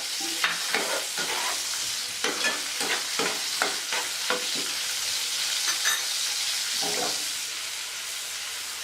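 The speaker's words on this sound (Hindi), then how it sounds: "अब हम इसको अच्छे तरीके से भून लेंगे।" Onion, green chilies and cumin fry in oil for a kadhi tadka, with a steady close sizzle broken by repeated scraping stir strokes throughout.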